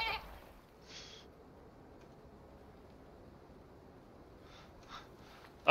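A goat bleats faintly a few times in a video game, short nasal calls spaced apart over a quiet, steady background hiss.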